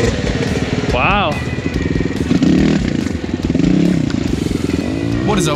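A 4-stroke enduro motorcycle ridden in snow, its engine loud and close, revving up and down steadily with rising and falling pitch swings throughout.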